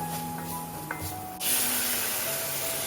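Flour toasting in a hot pan for an Armenian red bean soup as broth is poured in, a steady hiss that jumps into a louder, brighter sizzle halfway through, close and with no talk.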